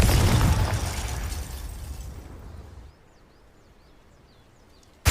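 Confringo spell explosion in the video game Hogwarts Legacy: a loud blast that decays over a few seconds into quiet, with faint chirping sounds and a sudden sharp burst at the very end.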